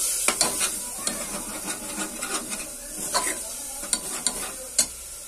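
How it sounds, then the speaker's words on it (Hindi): Masala for kali masoor dal cooks in a pan, a soft sizzle beneath repeated scraping strokes of a spoon stirring the spices, close and uneven in rhythm, with no talking. "मैं अच्छे से मिक्स कर लूँगी और मसाले में दो मिनट तक अच्छे से पका लेती हूँ"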